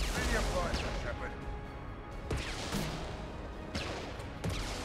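Grenade launcher fire in Mass Effect 2, heard as a few sharp, punchy bursts at separate moments over a dense, noisy game-combat background, with a player talking throughout.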